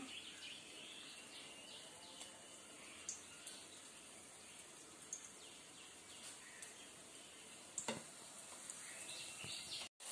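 Breaded chickpea cutlets fry in hot oil with a steady close sizzle, broken by a few faint clinks and one sharp clatter near the end; no one speaks.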